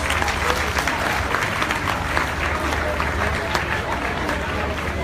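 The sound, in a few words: audience clapping hands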